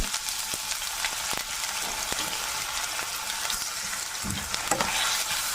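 Crushed ginger and garlic fry in sesame oil with popping mustard seeds, giving a loud, steady sizzle dotted with sharp crackles and a few stirring knocks near the pan.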